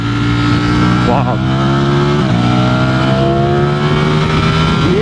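A Ducati Streetfighter V4S motorcycle engine revs hard to about 10,000 rpm in third gear, climbing in pitch with a brief gear-change dip, loud and close throughout, while a rider's voice exclaims briefly.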